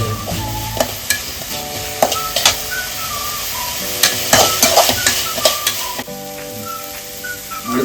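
Onion sautéed with a pinch of salt in a pan for dynamite chicken, a steady close sizzle with repeated stirring scrapes and knocks, plus a faint beeping tone in the background, without speech.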